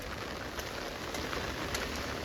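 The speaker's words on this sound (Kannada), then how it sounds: "ಮಳೆ ಬರ್ತೈತೆ, ಆದರೆ ನಮ್ಮ ಕೆಲಸ ನಿಲ್ಲಲ್ಲ." Steady rain falls during the monsoon season where a driver works, a continuous even hiss with faint scattered drops, moderately soft and alone with no talking.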